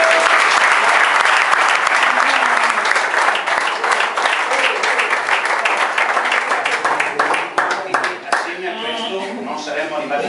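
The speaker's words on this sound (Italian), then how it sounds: "Stasera per voi vi invito a farvi un applauso perché ve lo meritate" A dinner gathering of a sports team applauds itself with loud, dense, sustained clapping from many hands, close and continuous, thinning slightly toward the end as a few voices come through.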